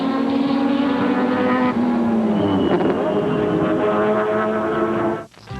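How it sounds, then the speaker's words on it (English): A Porsche 962 sports-prototype race car speeds around Laguna Seca during a 1987 IMSA GTP race, its engine a loud sustained roar with shifting pitch, heard from inside the car until a sudden drop near the end. "Day at the office inside the speeding Porsche 962."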